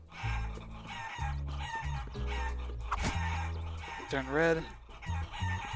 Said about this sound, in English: He wants you to get his chickens in the pen.